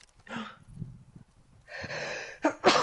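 A person sneezes loudly and close, with sharp breathy bursts and a snort-like gasp, while playing The Last of Us Part II indoors.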